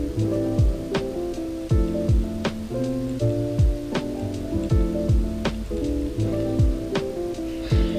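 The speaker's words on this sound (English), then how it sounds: "Here's what it looks like when you retrieve the bait." A Lew's KVD LFS casting reel being cranked steadily to retrieve bait, its gears whirring and clicking in a continuous mechanical churn with repeated sharp ticks, close up and without talk.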